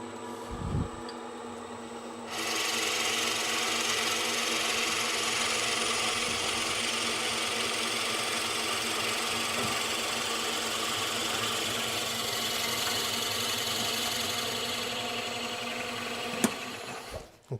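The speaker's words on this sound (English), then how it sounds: "I'm just going to drill up to that tape." A drill runs steadily while boring into wood for a mortise on a woodturning setup, starting after a brief knock and humming evenly at close range for over a dozen seconds, with a sharp click near the end.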